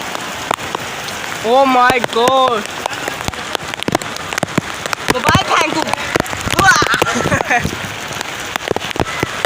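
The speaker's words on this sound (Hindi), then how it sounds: "इतनी तेज़ बारिश हो रही है" Heavy rain pours down in Karachi, a dense steady hiss of drops hitting surfaces throughout, with people exclaiming and talking over it.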